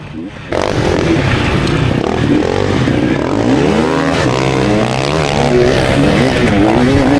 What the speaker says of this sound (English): And then I quickly passed Tao on my little 2-stroke